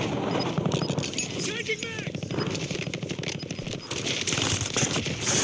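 Rapid gunfire from an LC10 submachine gun in a Call of Duty Rebirth match, a steady stream of clattering shots with a brief zipping whine, heard under continuous talk.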